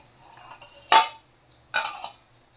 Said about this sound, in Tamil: ஒரு பிளேட் போட்டு மூடிடலாம்